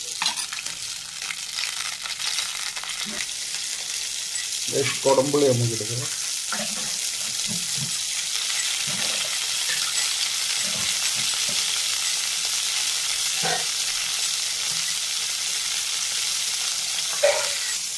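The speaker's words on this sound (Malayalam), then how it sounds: "പിന്നെ നല്ലപോലെ തിളക്കട്ടെ." Fish curry made with cut fish and kudampuli boils in a pot with a continuous bubbling, sizzling hiss, while someone talks briefly over it and a few clinks are heard.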